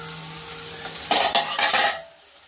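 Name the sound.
taro frying in a pan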